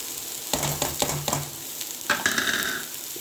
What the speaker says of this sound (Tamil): போட்டு நல்லா இப்படி கிண்டி விட்ருவோம்